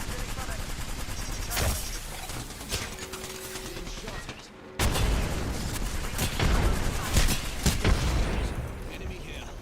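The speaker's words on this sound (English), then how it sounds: "Smart bullets landing." Smart bullets from Apex Legends land in a dense barrage of rapid impacts and gunfire, loud and close, with a sharp burst near the midpoint and continued crackling volleys afterward.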